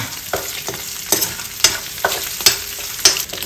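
Minced garlic sizzling loudly in a pan as it sautés to golden brown for Ilocano pinakbet, with regular scraping stirs of a spatula every half second or so, close up and without talk.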